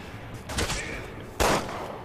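Two bursts of sniper gunfire crack out in the video game Resident Evil 6, each a short, loud, rough blast about a second apart, over low game background noise.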